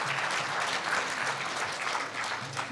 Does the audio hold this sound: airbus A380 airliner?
no